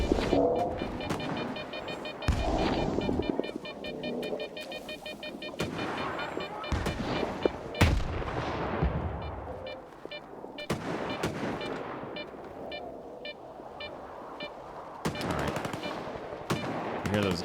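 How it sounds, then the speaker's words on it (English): Rapid bursts of gunfire crackle in a video game, repeated machine-gun volleys and single shots spread across the whole stretch, some close and sharp, others more distant. "Hear those gunshots."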